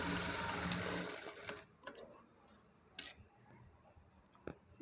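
A blouse is stitched on a sewing machine in a brief run at the start, then it falls quiet apart from scattered light ticks and clicks of the mechanism, close and fairly soft.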